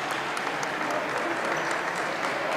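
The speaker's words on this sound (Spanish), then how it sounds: "Se lleva Ortega la ovación del pabellón municipal de Benalmádena Pueblo." Sustained ovation from a crowd in the municipal basketball pavilion of Benalmádena Pueblo, steady dense clapping at moderate volume filling the whole stretch without a break.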